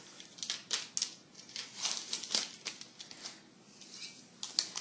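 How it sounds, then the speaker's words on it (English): Vinyl stencil being peeled off an etched glass beer stein after the etching cream is removed, giving repeated close, sharp crackling and crinkling tears in uneven bursts with no talk. "I'm going to remove the vinyl."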